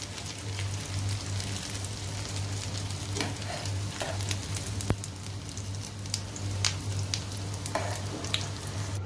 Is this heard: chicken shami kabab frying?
yes